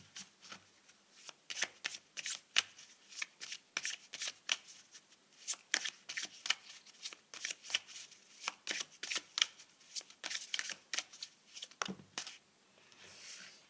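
A deck of numerology cards is shuffled up close: quick, soft riffling bursts repeat in an irregular rhythm for several seconds in a quiet room, with no speech.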